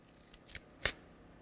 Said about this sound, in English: I'll just get my scissors in now.